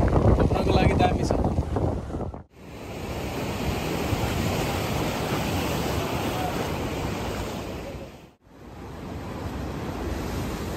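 Small sea waves washing onto the shore along the Bondi to Coogee coastal walk in Sydney, a continuous broad rushing surf with wind buffeting the microphone and two brief dips in the noise.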